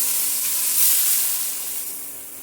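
A spice paste for a peanut and taro stem dish sautés in a pan over low heat, giving a steady, close, soft sizzling hiss with no talking.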